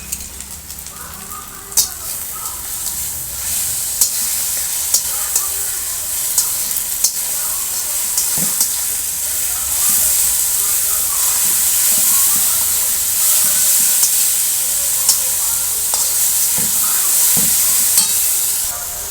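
A paste of garlic, coriander, cumin, chili and mustard hits hot oil with fried onion for a rohu mustard curry and sizzles and hisses loudly and steadily, with occasional spoon clinks and stirring scrapes throughout.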